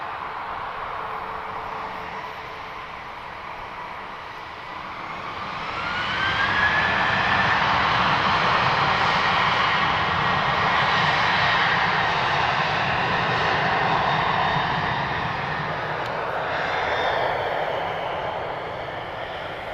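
Aircraft engines at Lisbon Airport, with Embraer, Cessna, Boeing and Airbus jets waiting to depart, make a steady broadband roar that swells in the middle and stays loud, with a rising whine partway through.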